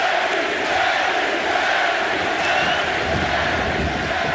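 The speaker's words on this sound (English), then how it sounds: "you hear this great crowd firmly behind Austin Aries" A large wrestling arena crowd at an X Division Championship match between Austin Aries and Kazarian roars in a steady, loud, unbroken wash of cheering with no clear peaks.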